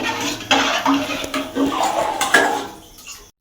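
A spoon stirs foxtail millet rice in a pot for sweet payesh, making loud, close, irregular scraping and clattering against the metal that fades out at the end.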